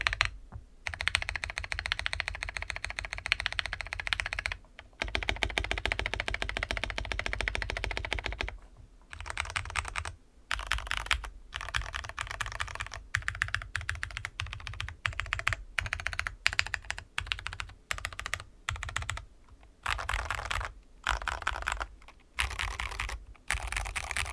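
Rapid clacking of mechanical keyboard keys on a Keychron V1 and Vortex PC66 with MT3 keycaps, in steady bursts with short pauses, close and crisp, no voices.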